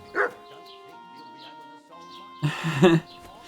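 A dog in Kingdom Come Deliverance 2 gives one short bark, then a burst of yipping barks a couple of seconds later, close and fairly loud over a quiet game background.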